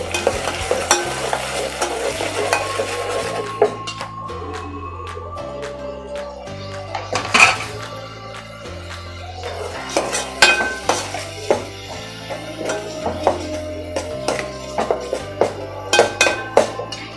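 A blended tomato and onion paste fries in a pan for a veg soya dum biryani, with a steady sizzle, repeated scraping strokes and metal clinks from stirring, all under light background music.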